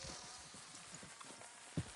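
Horses' hooves clip-clop in a game set in Red Dead Redemption 2, a soft, steady patter of hoofbeats under faint ambient noise, with one louder thud near the end.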